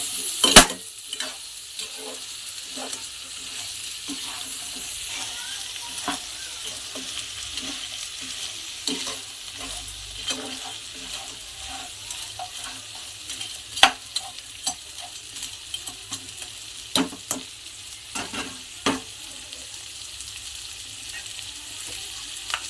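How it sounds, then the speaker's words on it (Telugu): Turmeric powder is stirred into crab curry frying in a pan, with a steady sizzle beneath repeated scraping stir strokes and a few sharper clinks of the spoon, with no talking. "వేసుకోండి పసుపు గుండ. వేసి కొంచెం కలుపుకోండి."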